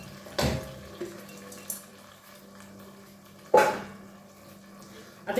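Onions, tomato, turmeric and garlic are stirred in a pot, with a few sharp scraping knocks of a spoon against the pot spread through otherwise quiet cooking.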